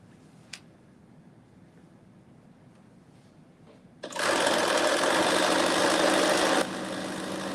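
Sewing machine stitching a seam on a Simplicity 9825 pattern garment; a quiet room with one small click, then the motor starts with a loud, steady whirring hum that drops a little in level near the end.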